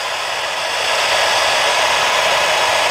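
A DongCheng cordless brushless die grinder runs at high speed, a steady loud airy whine with a constant hiss that holds level for three seconds without talk.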